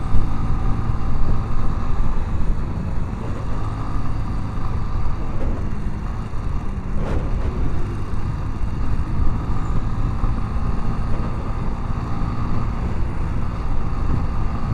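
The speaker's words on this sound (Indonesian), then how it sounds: "Motor kita kayak nggak tarik, padahal udah digaspol nih." A motorcycle on a solo tour from Binjai toward Lake Toba runs at full throttle yet struggles to pull, its engine a steady close drone mixed with wind rush throughout.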